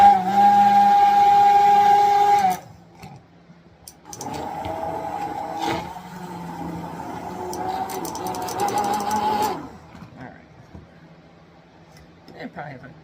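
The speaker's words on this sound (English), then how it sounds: "that's an immersion blender. I never thought I would love one as much as I do. So let's go ahead and get the garlic blended" An immersion blender whirs loudly and steadily while blending garlic for a salad dressing, cutting off after about two and a half seconds, followed by quieter clattering and handling noises with a second softer burst of motor sound.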